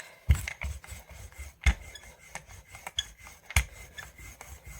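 Light rubbing over a Stazon ink image transfer on a gel plate, a dry raspy scraping in short strokes with a few sharper scuffs, close and fairly quiet with no talking.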